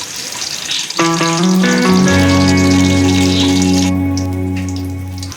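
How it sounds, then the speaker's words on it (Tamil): Cinnamon sticks and cloves sizzle in hot oil for a South Indian chicken gravy, a loud, close, steady frying crackle that starts abruptly and holds with a bright hiss. "நல்லா வதக்கிட்டு 2 பட்டை 2 கிராம் போட்டு நல்லா தாளிச்சுக்குவோம்."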